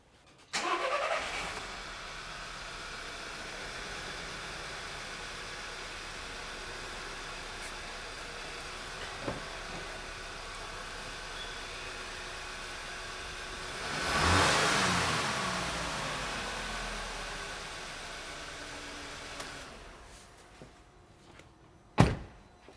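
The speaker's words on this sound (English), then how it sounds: "So we'll enable the engine to run, less one cylinder." An engine with one cylinder disabled starts and runs with a rough, uneven idle, briefly revving louder midway before settling, with a few clunks; no talking.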